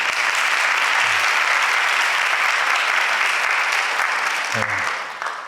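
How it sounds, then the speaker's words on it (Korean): A congregation at a Thursday university chapel service gives warm, sustained applause, a thick continuous clapping that fades slightly at the end, with brief voices underneath. "다시 한번 뜨거운 박수 부탁드립니다."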